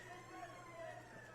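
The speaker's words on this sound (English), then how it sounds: "Sirens going off." Police or emergency sirens wail steadily at a distance during a prison disturbance with guards held hostage, a continuous wavering tone under faint background noise.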